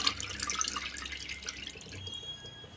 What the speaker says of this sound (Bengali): এই যে এগুলা জল থেকে উঠিয়ে আমি জল ঝরিয়ে নিচ্ছি।